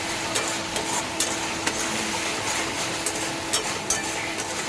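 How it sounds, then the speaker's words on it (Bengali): A spatula stirs raw-banana kofta curry masala in oil in a pan: a loud continuous sizzle with repeated scraping knocks at an uneven rhythm. "এবার নেড়ে চেড়ে আমি এতে জল দেবো"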